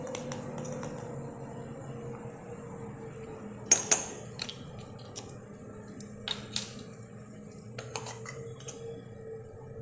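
A measuring spoon is tapped while measuring baking powder for a butter cake. A few light metallic clinks cluster near the middle, with scattered softer taps after, over a steady low room hum.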